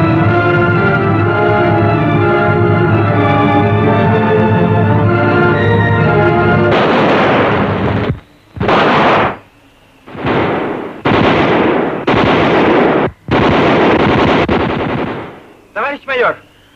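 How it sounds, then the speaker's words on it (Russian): Gunfire as a woman named Nadya shoots in a 1955 Soviet film set in snow, a series of loud, separated shots cracking one after another after a long sustained tone. "Надюша стреляет."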